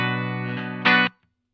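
Electric guitar through an Analog Alien Rumble Seat spring reverb set to minimum, a sustained bright chord ringing loud and dry, then a second strummed chord that cuts off cleanly with almost no tail.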